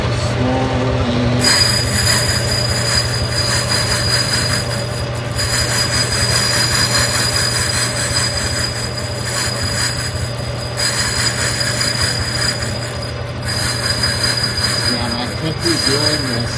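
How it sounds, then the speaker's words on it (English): A metal lathe runs steadily while the cutter takes a light pass, a constant motor hum overlaid with high, shrill squealing tones that come and go in bursts. "So the cutter's there. Let's turn the lathe on."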